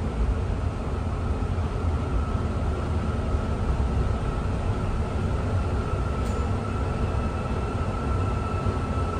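A Kuala Lumpur metro train rolls along with a loud, steady rumble and hiss inside the carriage, with no break and no voices.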